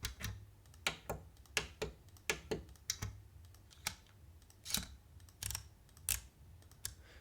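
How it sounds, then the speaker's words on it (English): Clicks from household objects such as a camera's analog aperture, a quick irregular series of sharp, close, dry taps and snaps with brief pauses between them, fairly quiet and free of talk. "this asset are many different clicks and sounds like this one"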